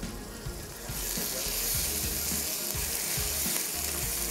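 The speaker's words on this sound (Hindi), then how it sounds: "बस साग को अब आपने भूनना अच्छे से, जितना ज़्यादा इसकी भुनाई होगी ना उतना ज़्यादा फ्लेवर इसका निकल के आएगा।" Mustard greens sautéing in a pan for sarson ka saag, a close, loud steady sizzle with soft low knocks of stirring underneath.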